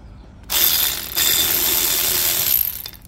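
A DCK KDPB02-10 cordless ratchet wrench runs in one steady, loud burst of whirring and ratcheting for about two seconds, with a short dip in the middle before it winds down.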